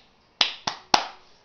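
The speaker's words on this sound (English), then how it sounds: "I applaud myself." Three sharp hand claps ring out alone, close and crisp, evenly spaced with a short decay after each.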